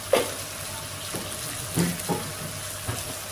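Onions sizzle in a pan as tomatoes and coriander-cumin powder are added, giving a steady frying hiss close by, broken by a few soft knocks and scrapes of stirring.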